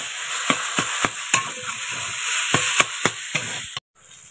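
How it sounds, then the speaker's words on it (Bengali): Salted eggplant is stir-fried in a wok, giving a steady hiss of frying under regular sharp spatula scrapes, about a dozen strokes, before the sound cuts off abruptly. "এবার বেগুনটাকে ভালো করে কষিয়ে"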